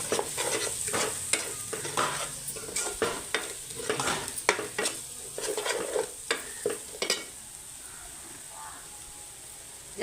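Spiced fish masala fries in oil while a spoon scrapes and stirs it in quick rhythmic strokes, then the stirring stops and a soft, steady sizzle carries on alone.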